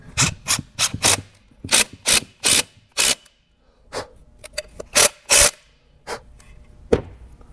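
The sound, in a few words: screw being driven in to join two pieces of rail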